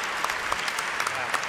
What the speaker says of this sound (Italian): e dunque lo ringrazierei ancora con un altro applauso